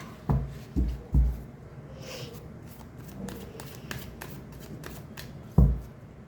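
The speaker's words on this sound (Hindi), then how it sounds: "मैं यहाँ पर ओवरलैप करके कार्ड्स रखती हूँ" Tarot cards being laid out overlapping and shuffled by hand, with a few sharp slaps and soft rustles close by, then quiet handling before one more firm card tap.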